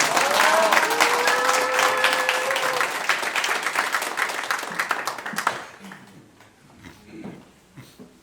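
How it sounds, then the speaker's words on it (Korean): A crowd applauds loudly at the opening ceremony of a Uijeongbu election campaign office as a poet is welcomed, the clapping dense for about five seconds before fading out into quieter room noise. "힘찬 박수로 모시겠습니다"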